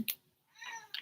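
A cat meows twice in quick succession, close by and fairly clear, with a short pause between calls.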